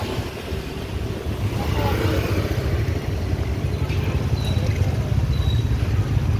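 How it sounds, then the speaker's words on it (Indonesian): Heavy traffic jam of cars and motorcycles in front of Taman Jam Gadang on a drizzly day, a steady low engine rumble close by with occasional horn-like tones, and a voice talking over it. "macet parah ini teman-teman di depan Taman Jam Gadang."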